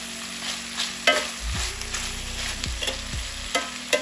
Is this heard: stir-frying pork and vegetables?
yes